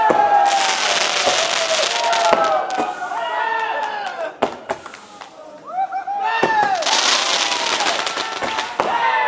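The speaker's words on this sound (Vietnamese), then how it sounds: "Đang đốt pháo đấy." Firecrackers set off at a Vietnamese village festival in Nhuệ Hổ, crackling in dense bursts across most of the stretch with sharp bangs, a brief lull in the middle, and crowd noise and voices underneath.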